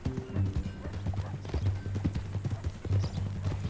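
Rhythmic clip-clop of horse hooves on a hard surface in the video game Red Dead Redemption 2, close and steady, with a short snort mixed in.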